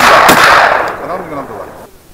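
A Benelli M4 Super 90 shotgun fires one loud, close blast that rings out into a fading tail as people talk outdoors.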